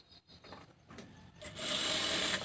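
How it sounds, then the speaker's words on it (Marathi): Sewing machine stitching a strip of blouse fabric, starting after a few quiet clicks and handling sounds, then a steady close whirring hum for about a second. "मी तुम्हाला शिलाई करून दाखवतो."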